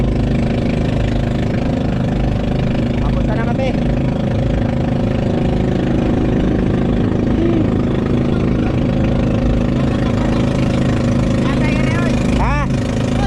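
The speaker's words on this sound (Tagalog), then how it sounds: "naka-andar na yung bangka" A motorboat engine drones steadily and loud on a fishing boat, running without pause under people talking.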